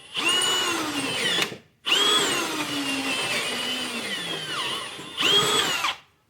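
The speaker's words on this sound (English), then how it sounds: "I'm going to drill out the little nut that's inserted into the metal." A cobalt drill bit runs loudly in three sustained bursts, its pitch sagging under load as it drills out a nut inserted in metal on a Mitsubishi Triton, with brief stops between runs.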